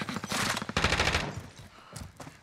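Bursts of automatic gunfire in Warzone's Verdansk, two rapid volleys close together followed by a shorter burst, fairly near and sharp.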